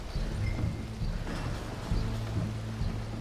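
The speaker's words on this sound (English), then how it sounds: "You hear the rain?" Steady rainfall in the video game Red Dead Redemption 2, a soft continuous hiss of falling drops laid over low, droning game tones that pulse faintly underneath.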